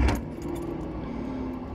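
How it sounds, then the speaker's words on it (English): A car engine turns over and settles into a steady, close idle hum with a faint metallic jingle at the start. "So let's start the engine."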